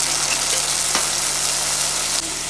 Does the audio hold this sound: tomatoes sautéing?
yes